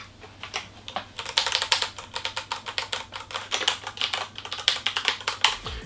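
Rapid, uneven clacking of a Thermaltake X1 RGB gaming mechanical keyboard, a non-clicky switch type, typed on close up, keystrokes coming in bursts with brief pauses.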